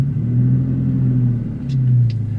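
A manual transmission car pulls away in first gear, its engine a steady loud low rumble that swells slightly as it moves off, heard close up from inside the car.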